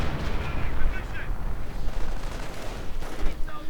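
Shell fire and explosions in a World War II strategy video game as a StuG tank takes a direct hit, dense rumbling booms and gunfire throughout, heard under a commentator's voice.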